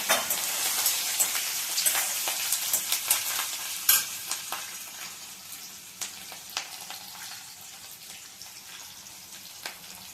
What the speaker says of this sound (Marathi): मिरची जरा झाली ना तेलामध्ये, दोनाशी झाली मिरची, तळली गेली